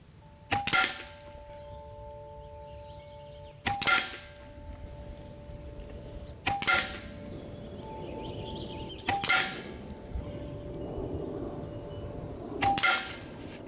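A Hatsan Flash Wood air rifle fires 18.1 grain JSB pellets, giving five sharp, evenly spaced cracks, each followed by a brief ringing tail, with quiet outdoor wind between shots.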